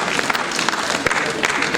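An audience at an award and book-release ceremony claps together in a dense, steady burst of applause, with a few sharper individual claps standing out.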